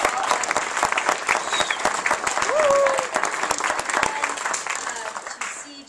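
Round of applause from the crowd at a literary journal's one-year celebration, dense sustained clapping for several seconds that fades slightly at the end, with a faint voice underneath.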